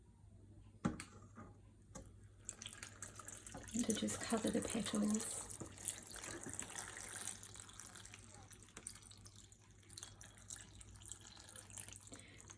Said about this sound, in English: This is alkaline filtered water, which is I'm going to pour that around the outside.